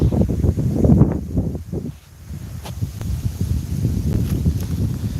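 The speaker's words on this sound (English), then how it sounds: "So you get the wind gusts like we have right now" Gusty wind in Australian bushland buffeting the microphone with rumbling, rustling surges that ease briefly in the middle before picking up again.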